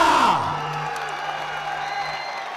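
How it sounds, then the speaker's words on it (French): A crowd at an MMA event in Marseille cheers and whoops for a fighter's entrance, a loud burst at first that thins to a sustained murmur and distant hollers. "Je vous demande d'accueillir et d'applaudir et d'acclamer Monsieur Anthony Rea."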